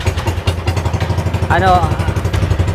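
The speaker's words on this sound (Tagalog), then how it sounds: "Paalis na ngayon yung bangka." Small boat engine idling and chugging as the boat departs for Garza Island on calm sea, a steady low throbbing drone with a brief voice partway through.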